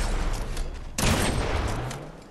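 Gunfire in Fortnite on PS5 breaks out as a sudden burst of rapid shots midway, set against a constant game background din.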